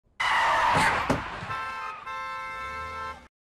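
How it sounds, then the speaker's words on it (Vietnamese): A car horn blares loudly outside a window in a horror film scene, one long harsh blast followed by a steady sustained honk of about three seconds before it cuts off abruptly. "có tiếng còi xe inh ỏi ở bên ngoài cửa sổ"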